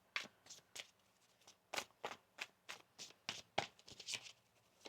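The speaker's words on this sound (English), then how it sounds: "One more shuffle here." Card shuffling up close, a quick run of crisp riffling bursts repeating steadily, fairly quiet with no talking.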